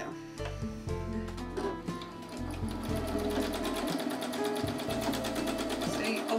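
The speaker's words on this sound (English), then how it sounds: "the feed dogs are dropped and I've got my free motion foot on" A sewing machine runs for free-motion stitching with the feed dogs dropped and a free-motion foot fitted, a close, rapid, continuous needle chatter whose speed shifts in bursts.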